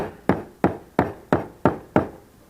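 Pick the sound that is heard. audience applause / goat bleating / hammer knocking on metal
hammer knocking on metal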